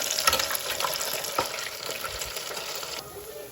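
Steady crackling sizzle of okra frying in hot oil, close up, with faint clinks and stirring; the hiss quiets slightly near the end.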